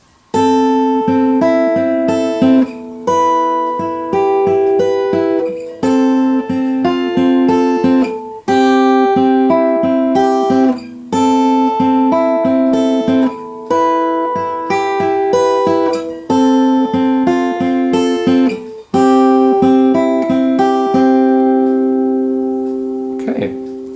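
Steady acoustic guitar fingerpicking moves slowly through a repeating chord progression, each note clear and evenly spaced, played alone without any voices.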